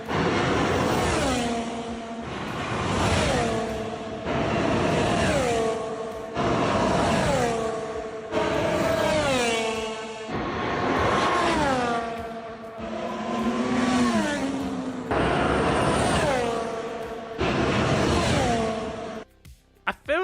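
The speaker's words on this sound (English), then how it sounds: "definitely sound like engines, Connor, yeah." Formula 1 engines in preseason shakedown running lap after lap, each pass a loud high-pitched wail rising through the gears and dropping in pitch, repeating in steady waves under people talking.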